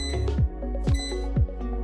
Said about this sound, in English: You'll know the air fryer is done cooking when you hear it beep 3 times.